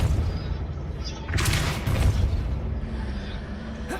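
A Depulso spell cast in the video game Hogwarts Legacy gives a loud, broad whooshing blast lasting under a second near the middle, over steady rumbling game ambience.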